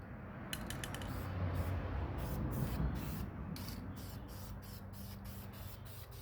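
Duplicolor vinyl and fabric spray paint applied to car sun visors, producing a faint, steady aerosol hiss with a run of light rhythmic clicks and taps over it, no talking.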